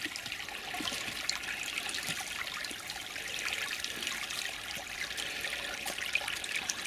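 Emily Creek in Kawartha Lakes, Ontario, trickles and burbles steadily over stones, a soft continuous babbling with faint splashes, heard close up and alone without voices.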